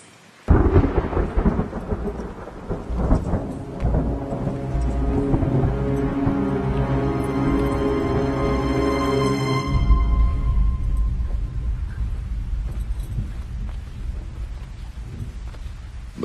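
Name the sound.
thunder rumbling outside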